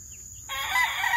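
A rooster crows once, close and loud, starting about halfway through after a brief quieter moment, with a sustained harsh call and no speech over it.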